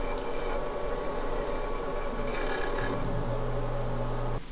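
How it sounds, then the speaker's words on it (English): A chisel scrapes and rasps at heavy rust inside a tire changer, a continuous gritty metallic grinding at close range with a steady hum underneath, ending abruptly. "taking a chisel and trying to get the big chunks of rust out of"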